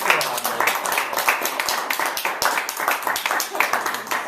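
Guests at a wedding ceremony applaud continuously, a close, lively patter of many hands clapping with an uneven rhythm throughout, while a voice talks faintly underneath.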